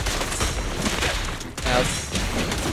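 Sustained gunfire from the video game Zenless Zone Zero, a dense, loud fusillade of rapid shots running almost without a break, with a short gap partway through before the firing resumes.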